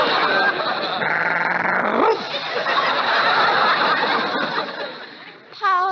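A small fox terrier dog yaps and vocalizes in a vintage radio or TV comedy setting, close and fairly loud, with a brief burst near the end.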